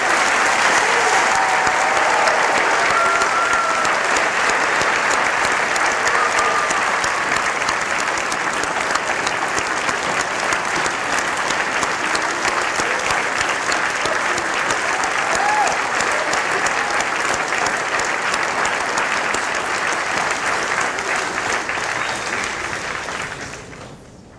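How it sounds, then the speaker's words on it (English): Sustained, steady applause from a large audience at a dental school commencement ceremony for the graduating class, loud and even throughout before cutting off at the end. "one more round of applause for the 2019 class of the School of Dental Medicine"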